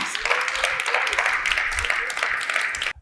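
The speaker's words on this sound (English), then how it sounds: "Round of applause for Andrew," An audience claps after a speaker at the ETL Vegas 23 Launchpad competition final, steady applause filling a room for about three seconds before it cuts off sharply.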